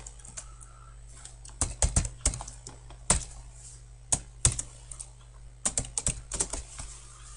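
A password tapped out on a computer keyboard during a lab lecture, irregular bursts of clicky keystrokes with short pauses between them, close up over a low steady hum.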